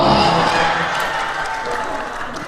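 A crowd at a religious sermon claps together in a dense, loud burst of applause that tapers slightly as it goes on.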